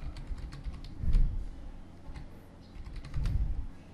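Fingers tap steadily on a computer keyboard in Windows, a run of quick, fairly quiet keystrokes with a couple of heavier thumps, no voices.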